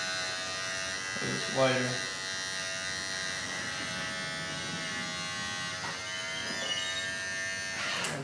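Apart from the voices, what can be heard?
barber's electric trimmer cutting a line up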